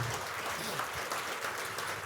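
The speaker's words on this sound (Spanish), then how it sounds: "Un aplauso, por favor." A short burst of steady clapping from a church congregation, even and continuous for a couple of seconds.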